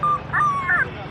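A dog whimpers and yips in a short run of high, thin whines, close and fairly loud, with brief pauses between cries.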